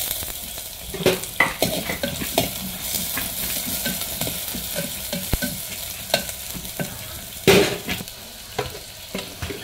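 Finely chopped onion fries in a pan while being stirred, a continuous sizzling hiss overlaid with frequent irregular scraping strokes and a few sharper knocks, close and moderately loud.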